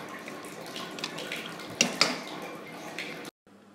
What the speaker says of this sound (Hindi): अब हम इसमें डालेंगे 2 कप पानी।